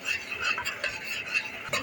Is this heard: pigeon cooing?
no